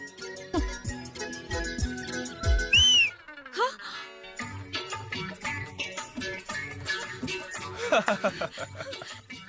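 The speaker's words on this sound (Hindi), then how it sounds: "देख लिया सीटी का कमाल।" A man whistles loudly in a Bhojpuri film scene, shrill rising and falling whistle tones against a busy music and effects backdrop, with laughter and other voices around it.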